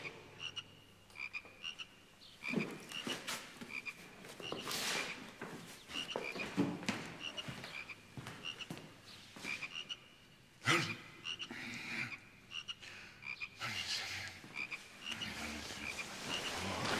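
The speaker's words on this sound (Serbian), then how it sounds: "Odakle se čuju ove žabe?" A chorus of frogs croaks outdoors, with dense repeated rasping calls that rise and fall in irregular bursts over a steady background.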